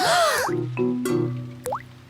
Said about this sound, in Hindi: डैडी पिग बूंदें इकट्ठा करने के लिए बाल्टी का इस्तेमाल कर रहे हैं।